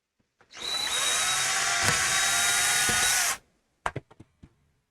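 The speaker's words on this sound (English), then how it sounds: "And drill that out." A power drill whines steadily for about three seconds at close range, drilling out plugs in a milk frother, then stops, followed by a few sharp clicks and taps.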